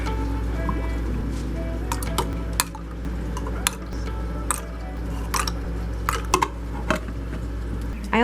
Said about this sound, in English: I'm gonna put some ice in their water.